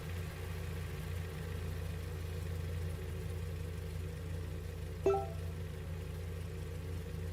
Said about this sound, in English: All right, we're idling.